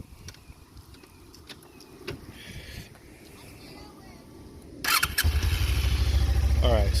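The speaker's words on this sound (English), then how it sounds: "Let's see if we can get a quick exhaust clip of how this thing sounds." A Suzuki GSX250R motorcycle engine cranks and catches, then settles into a loud, throbbing exhaust idle close by, after several seconds of quiet background rustling and clicks.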